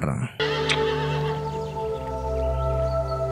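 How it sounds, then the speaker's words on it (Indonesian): Wild horses whinny with a loud, tonal neigh that holds steady for several seconds after an abrupt start, close by and clear, with faint background sound underneath. "mereka tak sengaja menemukan beberapa kuda liar"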